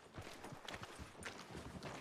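A horse's hooves clip-clop in Red Dead Redemption 2, a quiet, even walking rhythm of several soft hoof strikes with no talk over them.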